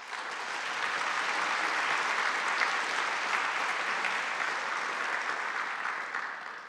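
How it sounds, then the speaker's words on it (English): Sustained, dense applause from a large audience at the Conservative Party Conference, rising quickly and holding steady at full strength before easing slightly toward the end. "While we're feeling in the mood for applause"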